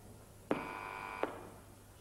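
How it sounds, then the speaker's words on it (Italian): A single steady electronic telephone tone, like a dialing or ringing beep, sounds for under a second over a faint background hum in a quiet room. "È il telefono questo?"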